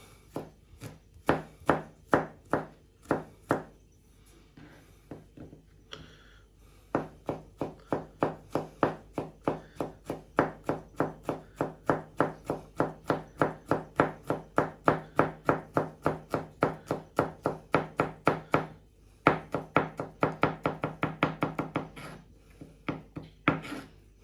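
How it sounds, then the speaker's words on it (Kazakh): Garlic cloves chopped finely with a knife on a wooden board, a long run of rapid, even thuds close by, briefly pausing then resuming at a steady brisk rhythm, no talking. "Енді осындай 3 бас чеснок керек бізге. Жақсылап ұсақтаймыз бұны."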